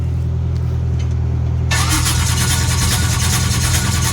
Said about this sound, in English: Let's see if I can start it and make it easier to turn the wheel.